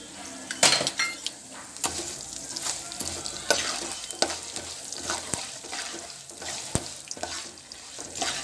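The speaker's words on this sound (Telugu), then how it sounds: "పోపులు వేసుకుంటున్నాం." Tempering spices fry in hot oil for rice rava upma, giving a bright continuous sizzle broken by frequent sharp clinks and scrapes of a spoon stirring in the pan, close and fairly loud.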